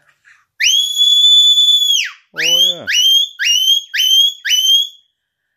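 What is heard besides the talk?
high-pitched whistle blowing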